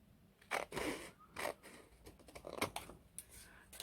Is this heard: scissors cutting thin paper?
yes